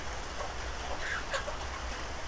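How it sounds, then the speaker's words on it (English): Rain patters on a house roof, a faint, steady hiss of drops with no talking over it. "you can hear the noise of the rain on the roof"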